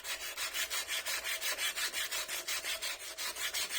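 Sanding a pen blank along its axis makes a steady rhythmic rasp, about five strokes a second, each a close, even scratch of abrasive on wood.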